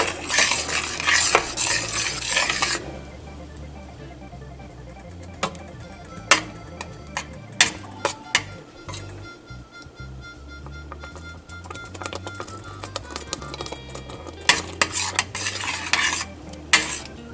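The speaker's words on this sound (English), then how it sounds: "See how it's bubbling? You stir it." Thick peach jam bubbling in a pot while a spoon scrapes and stirs, with irregular clinks and pops over a low steady simmer, close by.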